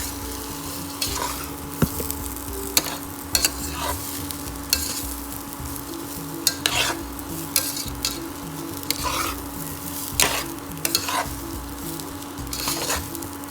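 Rice stir-fried in a pan over a medium flame for a Maharashtrian CKP spicy shrimp khichadi: a steady sizzle runs throughout, with repeated sharp scrapes and clinks of a spoon against the pan at an uneven rhythm, close and alone.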